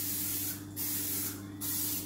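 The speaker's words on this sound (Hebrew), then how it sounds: "התבנית לשמן, אפשר עם תרסיס למי שיש" Cooking spray hisses in two short bursts as it greases a pie tin, each spray loud and close against a steady kitchen hum.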